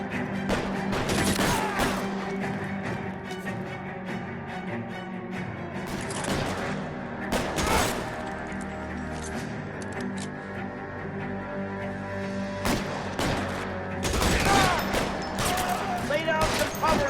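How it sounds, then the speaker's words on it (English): Gunfire in an L.A. Noire shootout during an arson case at an electroplating plant: loud bursts of shots come in clusters with short gaps, over a steady ambient hum. "Lay down some cover and fire."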